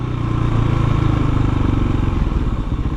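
A KTM 525 EXC dirt bike idles close by, a loud, steady low thumping single-cylinder beat with slight clatter, no voices over it.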